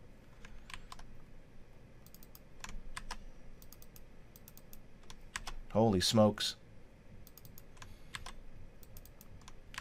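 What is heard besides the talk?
typing on a computer keyboard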